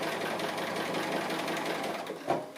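A sewing machine stitches around a tiny detail of an ice cream van appliqué, running steadily and close with a continuous whirring hum and a brief louder burst near the end.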